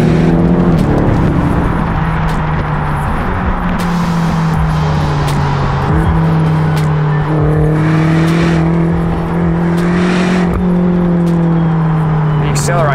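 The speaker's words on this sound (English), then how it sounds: "You just pin it back, you get that lovely little upshift burp out of the exhaust pipes" A 2016 BMW X6 M driven hard on country roads in sport mode, its engine note rising loud and steady through the gears with brief exhaust burps at each upshift, heard from inside the cabin over a speaking voice.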